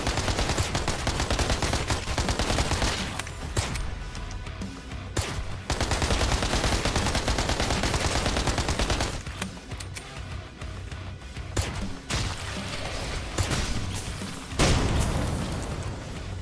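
Rapid video-game gunfire in sustained loud bursts, dense automatic fire broken by brief pauses, with occasional heavier booms.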